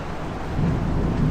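A thunderstorm rumbles low and steady over a constant wash of rain near a storm shelter, the dull roll swelling slightly partway through, with no voices.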